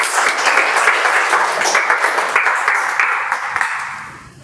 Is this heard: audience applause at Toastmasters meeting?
yes